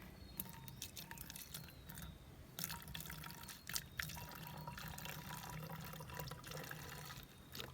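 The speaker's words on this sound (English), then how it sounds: "pour about 2 or 3 inches of vinegar into the bottle" Vinegar being poured into a bottle for a simple homemade rocket makes a quiet, close trickle with light dripping and splashing.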